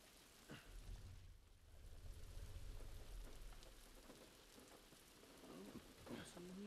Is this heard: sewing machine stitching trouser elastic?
no